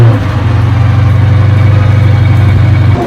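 A car engine idles steadily at close range, a low even hum with a faint rhythmic pulse that holds without revving and drops off near the end.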